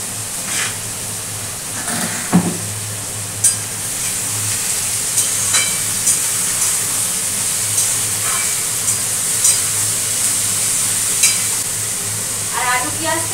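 Potatoes and onions fry in a pan with salt and turmeric, giving a steady close sizzle throughout, with occasional scrapes and clinks of a utensil stirring against the pan.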